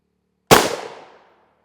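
One sharp, loud rifle shot from a 16-inch MCX Spear strikes an RMA 1165 Level IV armor plate outdoors, followed by a short decaying echo and then silence, with nobody speaking.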